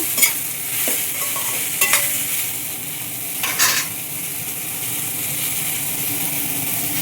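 Hot oil crackles and sizzles steadily in a pan as asafoetida goes in for tempering a cucumber curry, with a few brief louder spits of frying near the start and middle, close by and with no talking.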